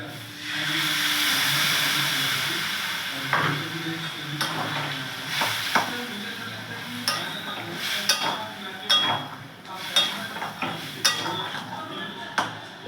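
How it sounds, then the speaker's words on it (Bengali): Water poured into a hot pan of curry with roasted ground cumin and a little jaggery gives a hiss of steam and sizzle at the start, followed by softer bubbling and scattered clinks of a spoon against the pan. "এবার আমি জল দিয়ে দেবো।"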